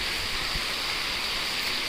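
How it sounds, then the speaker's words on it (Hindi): Water spraying from the Bin Badal Barsat fountain in Udaipur, a steady rain-like hiss with no break or change in level. "ये है बिन बादल बरसात फाउंटेन"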